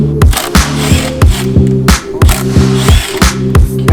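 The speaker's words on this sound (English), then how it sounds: "Then you're gonna have to loosen up the clamps, which would be an 8mm." Ratchet wrench loosening 8mm exhaust clamps on a 2017 Subaru WRX STI, a rapid run of loud, close clicking strokes in a regular rhythm, about eight pulls in four seconds with no talking.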